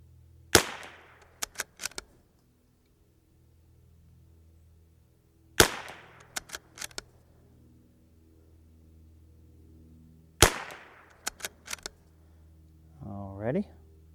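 Three sharp, loud rimfire rifle shots fired with CCI Standard Velocity ammunition crack out at roughly five-second intervals, each followed by a short scatter of clicks and echoes, with a brief voice near the end.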